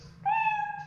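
A single short cat meow in an SCP dungeon video game, clear and close against near silence, with no talk.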